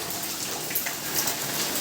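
Afternoon rain in an Indian household setting, a steady dense hiss of falling drops on surfaces with a few brighter spatters, continuous and fairly close, no voices.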